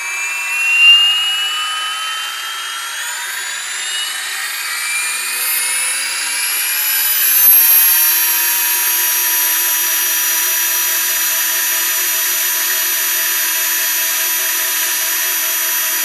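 Goblin 570 RC helicopter rotor spinning up to about 1700 rpm, a loud whining, rising tone that climbs and then holds steady with a constant high-pitched drone and no voices.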